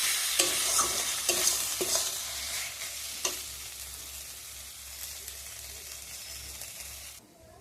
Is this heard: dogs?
no